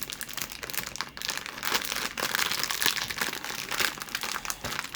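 Plastic wrapping crinkles and crackles continuously at close range while a Labubu package is opened, busy and fairly loud, with no talk over it.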